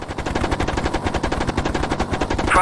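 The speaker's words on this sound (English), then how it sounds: "I don't think my little cannon's gonna hurt that tank." Hind attack helicopter cannon in a flight simulator game fires a sustained rapid burst, dense and loud, continuous rattling rounds from start to finish.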